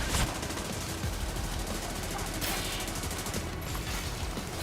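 Rogue assault turret in The Division 2 firing a dense, continuous burst of automatic gunfire, loud and close, with rapid rattling shots sustained throughout and no talking.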